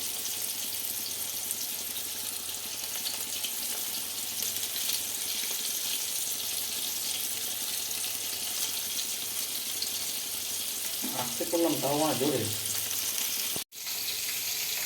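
Prawns frying in hot oil for chilli prawn make a constant crackling sizzle from start to finish, with a short spoken phrase near the end before a sharp click.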